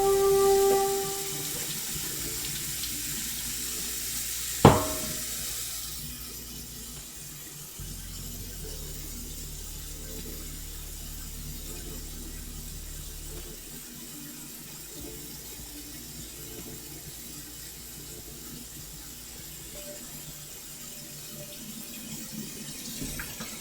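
A kitchen tap runs water while bottles are rinsed and sanitized for bottling cyser mead, a steady close rushing stream with a sharp knock of glass early on and quieter hissing flow afterward.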